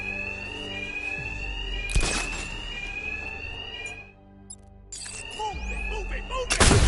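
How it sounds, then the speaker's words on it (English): Fire alarm blaring steadily in Batman: Arkham Knight, a loud continuous electronic ringing cut by a few heavy thuds and brief drops, with faint voices and game noise underneath. "My attacks will be covered by the noise of the alarm."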